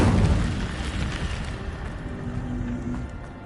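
The Incendio fire spell is cast in a Harry Potter-style video game, giving a loud, close fiery whoosh and rumble that starts strong and then settles into a steady roaring crackle, with no talking.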